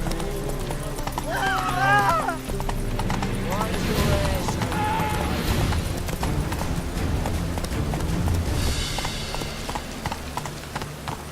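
Hooves of Roach, a horse in The Witcher 3, clop steadily throughout, mixed with a brief whinny-like call, game music and people speaking over the continuous trotting rhythm.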